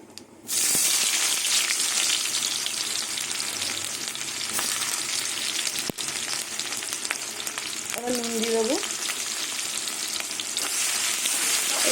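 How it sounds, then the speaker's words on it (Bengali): Onions fry in hot oil with nigella seeds until reddish, a loud, steady, crackling sizzle throughout, close up, with an occasional utensil tap and no speech. "পেঁয়াজটাকে লাল লাল করে ভেজে নেব"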